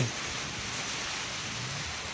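Steady wind-driven rain falling, a continuous moderate wash of broadband noise with no voices and no distinct individual drops.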